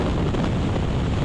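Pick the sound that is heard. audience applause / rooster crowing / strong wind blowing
strong wind blowing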